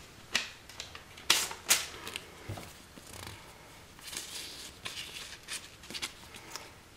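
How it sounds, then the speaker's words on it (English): Floral stamp set being pulled out of an envelope: close, crisp paper crinkles and rustles with several sharp snaps early on, then softer intermittent scratching, no talking. "I can get it out of the envelope here."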